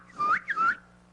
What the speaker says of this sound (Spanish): Si tú silbas, yo silbo. Entonces silbé.